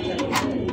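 Pigeons cooing close by at a busy pigeon market, a soft rising and falling coo with several bursts over a brief moment, with crowd murmur underneath.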